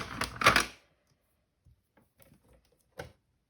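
Plastic sheet scored with a tracing board: a quick cluster of dry scratching clicks at the start, followed by a few faint scattered taps and a final short scrape, with no voice.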